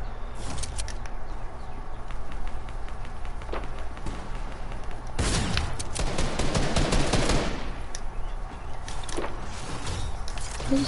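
Rapid automatic gunfire rattles in a video game, strings of close shots running through the whole stretch and peaking in a loud burst midway, with little talk.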